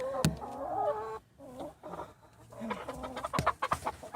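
Hens cluck and squawk close by inside a chicken coop during winter, with harmonic calls and a few sharp louder cries, while a person speaks softly nearby.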